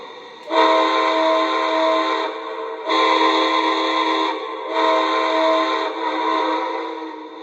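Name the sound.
model steam train whistle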